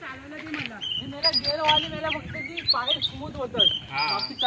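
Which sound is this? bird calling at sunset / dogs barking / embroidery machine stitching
bird calling at sunset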